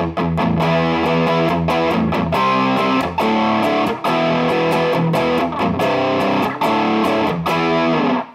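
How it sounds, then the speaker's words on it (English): A distorted electric guitar through a Bob Burt Multi-Drive distortion pedal on notch 4, a 70s-style setting, plays thick, warm chords and riffs with a vintage crunch, loud and continuous with brief gaps between phrases. "Notch 4, probably my personal favourite, kind of 70s sound and distortion."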